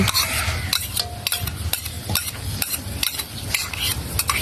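Sautéed bitter gourd with egg is stirred in a pan, with a loud, close sizzle broken by frequent rhythmic clacks and scrapes of a spatula against the metal.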